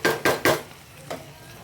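Sliced vegetables wilting in hot oil in a pan for a Kerala fried mackerel and prawn dish, three quick sizzling bursts from stirring followed by a softer hiss and one more stir near the end.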